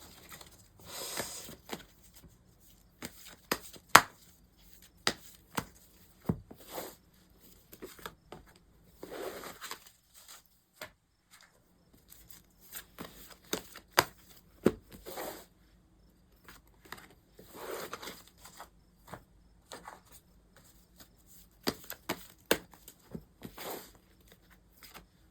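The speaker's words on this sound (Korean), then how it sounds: "여러분을 위한 조언 카드를 제가 한번 뽑아보도록 해볼게요" Tarot cards being shuffled and drawn from the deck at close range, with soft irregular patters, slides and taps scattered through a quiet room and brief pauses between bursts.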